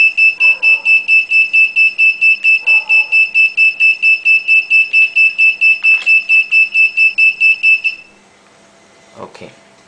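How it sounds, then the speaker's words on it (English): A seven-segment digital clock's buzzer alarm beeps in a rapid, steady rhythm of about thirty sharp electronic pulses, then stops, followed by a few soft handling clicks. "after the time reach, the buzzer will sound"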